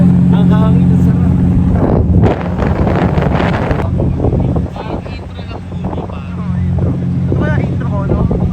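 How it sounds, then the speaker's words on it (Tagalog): Cold wind gusts across the microphone on a New York City street, a steady rumbling roar with a louder burst partway through, while people talk over it. "Ang lamig. Ang hangin. Ang hangin na sarap."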